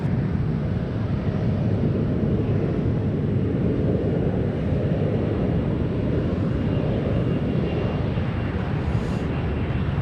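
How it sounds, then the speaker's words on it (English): Emirates Airbus A380 on its takeoff run at San Francisco, a steady, loud, broadband jet engine roar with heavy low rumble holding constant throughout, wind buffeting the microphone. "Emirates getting ready to take off."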